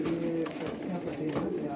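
Flying pigeons coo softly and steadily at close range, a low, continuous burbling.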